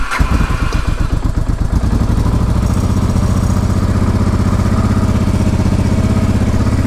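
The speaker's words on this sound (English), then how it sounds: "now we're just going to start the bike" A motorcycle engine cranks and catches with a few rapid pops, then settles into a loud, steady idle close by.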